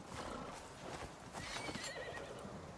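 Horse in the survival game Icarus clops along with steady hoofbeats and lets out a whinnying neigh, faint and a little distant under ambient game sound.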